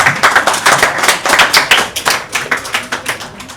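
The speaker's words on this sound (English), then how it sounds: "please give him a big round of applause." An audience at an indoor event claps loudly in a big round of applause, a dense, continuous patter of many hands close by with no voices over it.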